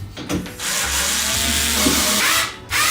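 Bolts going into the top frame of a modular table: close, grinding power-driver whirs and scraping metal rasps running nearly continuously across a few seconds, with short breaks at the start and end.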